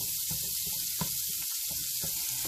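Green beans blister in a hot frying pan with a constant bright sizzle and soft crackles, steady and close, with a few low knocks of the pan underneath.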